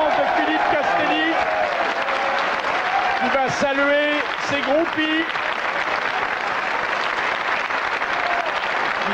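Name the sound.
studio audience applause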